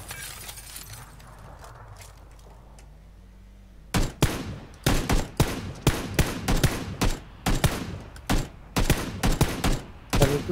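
Rapid bursts of gunfire in PUBG, many close sharp shots in quick irregular clusters after a quieter opening, loud and continuous to the end with no talk.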